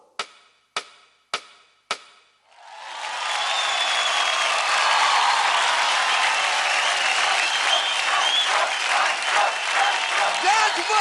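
Four sharp, separate claps open, then a studio audience bursts into steady, close applause after Pradeep's free-running dance performance, continuing loud and even to the end.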